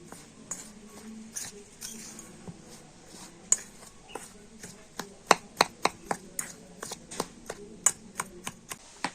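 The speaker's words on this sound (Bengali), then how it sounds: "আর এবার আমি শুকনো উপকরণগুলো প্রথমে একটু ভালো করে মিশিয়ে নেব" Puffed rice, sugar and a little salt being mixed by hand in a bowl, giving a string of sharp dry clicks and scrapes that grow denser and louder toward the end, close up with no voices.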